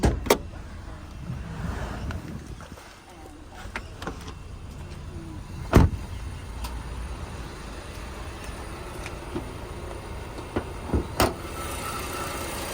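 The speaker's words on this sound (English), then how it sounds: "as we listen to it run, no major knocks, rattles or squeals. It's that motor ticking over nicely" A 2018 Honda HR-V VTi engine idles steadily under the open bonnet, a low, even hum held throughout, broken now and then by a few sharp clicks and ticks nearby.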